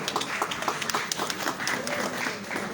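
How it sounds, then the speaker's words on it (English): A crowd claps and cheers for a queen's grand entrance at a community awards show, the applause full and continuous with a few sharper claps standing out near the front. "a round of applause, please"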